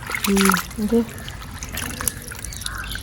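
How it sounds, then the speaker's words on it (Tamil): Water trickles and splashes as karal fish are washed by hand, with short liquid dribbles and pours close by, while a voice speaks over part of it. "இப்போ அம்மம்மா மீன் எல்லாம் வந்துட்டு கழுவ போகிறேன்"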